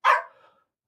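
A single dog bark rings out nearby, a short loud burst that trails off quickly into silence.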